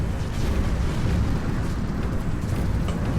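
Meteor impacts in the video game McDroid form a dense, continuous rumble of booms and crackling blasts. The barrage stays loud and steady throughout with no talking.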